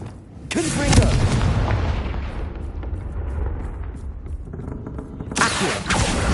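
A blasting-spell explosion from a Harry Potter video game booms loudly, followed by a long rumbling fireball that slowly decays, with a second sharp blast near the end.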